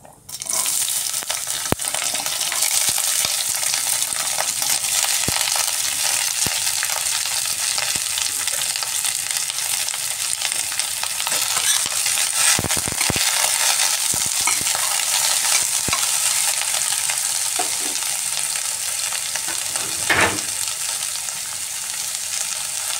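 Cauliflower stalks, potatoes and beans fry with a cumin tempering in hot oil, giving a continuous close sizzle with faint stirring clicks and a few louder scrapes.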